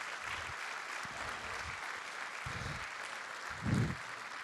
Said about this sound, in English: Why don't you give you guys self an applause